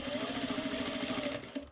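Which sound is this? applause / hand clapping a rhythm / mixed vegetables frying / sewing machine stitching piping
sewing machine stitching piping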